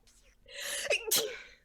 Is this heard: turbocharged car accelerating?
no